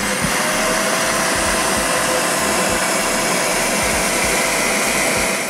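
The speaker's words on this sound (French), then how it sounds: "lorsqu'il revient sur sa base de charge pour vider le réservoir interne de l'aspirateur dans la tour, bah, là, c'est quand même beaucoup plus bruyant." The auto-empty base of a Dreame Z10 Pro robot vacuum sucking debris out of the internal dustbin, a loud, steady rushing whine with a low rumble, running continuously and close up with no talking.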